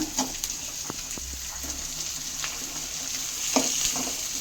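Chopped onion and carrot sauté in a pan for rava kichadi, a continuous close frying hiss with scattered light stirring taps, no speech.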